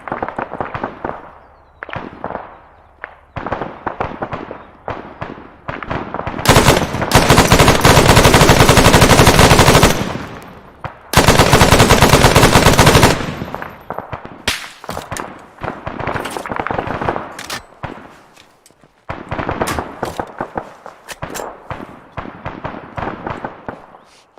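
Heavy automatic gunfire in the military shooter game Arma 3, long sustained bursts of loud, dense fire with scattered shorter shots and cracks between them.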